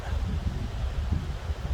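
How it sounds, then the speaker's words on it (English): Wind gusting over a ridge in New Zealand bush during winter, a steady low rushing roar with rustling, close and unbroken with no voices. "The wind keeps just coming back over the ridge."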